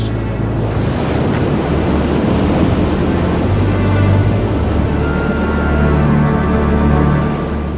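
Vast torrents of floodwater surge out of a great glacial lake as its ice dam collapses, a loud, steady, unbroken roar of rushing water with no voices.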